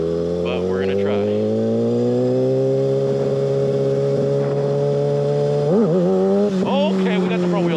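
A Kawasaki 636 sport motorcycle engine revs hard in first gear, a loud close rising drone that holds steady and then wavers in pitch near the end as the throttle shifts, with a voice speaking briefly over it.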